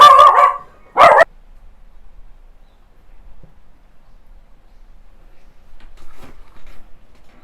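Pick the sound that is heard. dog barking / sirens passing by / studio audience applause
dog barking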